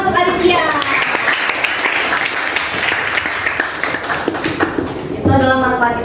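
Applause for Aditya fills the room, dense clapping from a group of people for several seconds, with voices talking over it near the start and end.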